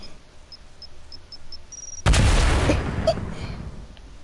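A clinger grenade going off in Fortnite: a few faint beeps, then a sudden loud blast about halfway through that rumbles and decays over roughly two seconds.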